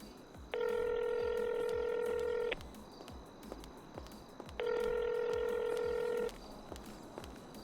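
Phone number dialled in the video game GTA V on the NoPixel roleplay server: two long, steady electronic tones, each lasting under two seconds with a pause between, clear and close over faint background hiss.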